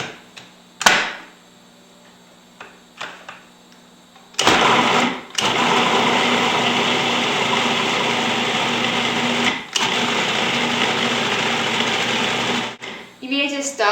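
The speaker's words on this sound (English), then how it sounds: "I'm just going to pulse all of this together into the food processor" A food processor pulses chickpea cookie dough for peanut butter chocolate chip cookies in a loud, steady whirring run of several seconds, following a brief earlier burst and short clicks, with a jolt midway and clattering at the end.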